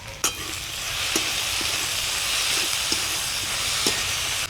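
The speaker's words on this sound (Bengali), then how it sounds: "একটু ঢাকা দিয়ে দিয়ে আলু বেগুনটাকে কষিয়ে নেব।" Potato and eggplant chunks fry with salt and turmeric in a partly covered pan, sizzling in a continuous close hiss broken by sharp spatula clacks and scrapes at irregular intervals.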